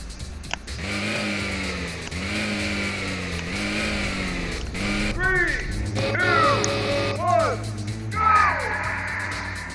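A street race car in Redline accelerates hard from a second gear start, its engine climbing through rising revs and gear changes, with squealing tones layered over the roar.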